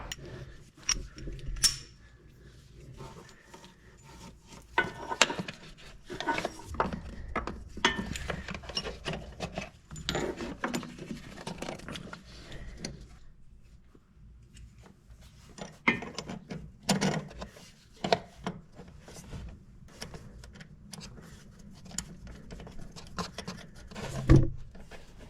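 An early-2000s Audi A4 Quattro tie rod is clamped tightly in a vise, giving scattered metallic clicks, ratcheting and scraping handling noises at close range, irregular and fairly quiet, with no speech.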